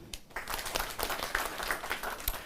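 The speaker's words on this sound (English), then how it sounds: "Let's clap for him." An audience at the Nakuru gubernatorial debate claps for a few seconds, a modest, fairly quiet patter of hands with no voices over it.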